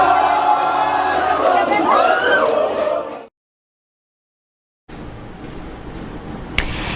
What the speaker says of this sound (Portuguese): No apagar das luzes no fim do jogo, a torcida do Cruzeiro comemora no segundo tempo.